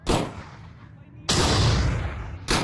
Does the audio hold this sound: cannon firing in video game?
yes